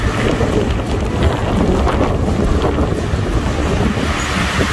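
Strong wind roars steadily through a spring snowstorm, battering a pine tree with a dense, continuous gusting rush that stays loud and close throughout.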